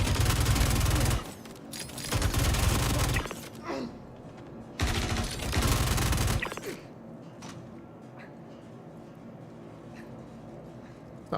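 Rapid automatic gunfire from the video game Star Citizen rattles out in three loud, close bursts separated by short pauses, then gives way to quieter game ambience.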